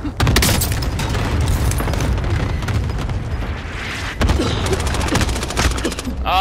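Gunfire in Call of Duty: Modern Warfare, loud rapid bursts of automatic shots with booming impacts, nearly continuous across the clip with a brief lull before another sharp volley.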